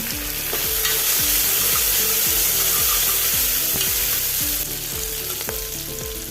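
Capsicum fries in a pan for a mixed vegetable curry, a dense and loud close-up sizzle with a rhythmic scraping of a spoon stirring about once every half second throughout.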